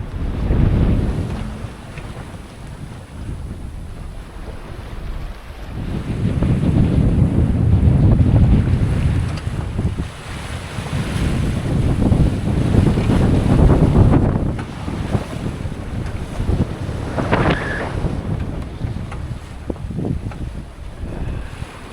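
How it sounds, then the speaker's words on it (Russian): A sailboat sailing solo in trade winds between Turks and Caicos and the Bahamas, with wind roaring across the microphone and waves washing against the hull in long, swelling surges that rise and ease for over twenty seconds without talk. "Ветер, волны, отлично."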